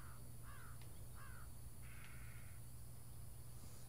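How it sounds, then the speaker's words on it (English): A few crows caw in a Ghost War game, three or four separate calls at moderate distance over a steady low hum. "These fucking birds are annoying."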